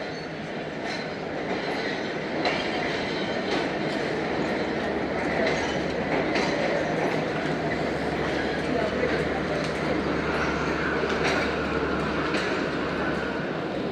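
The Karachi Express passenger train runs with a steady rumble and rhythmic clickety-clack of wheels over rail joints, and a low engine drone joins partway through. Close and continuous, with a voice talking over it.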